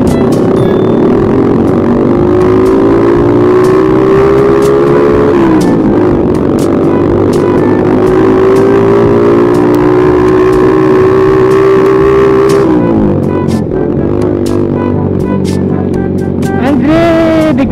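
A motorcycle engine revs in stop-and-go city traffic, a loud close steady drone rising and falling in pitch with several throttle swells, with wind noise over the microphone throughout.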